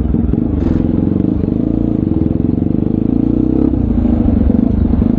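A Yamaha MT-09 motorcycle rides at a steady, loud engine note with a rapid pulsing rumble, close up, shifting slightly in pitch toward the end.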